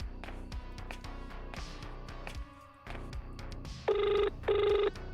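A telephone gives two short electronic ring bursts near the end, clear and fairly loud over background music, with no talking.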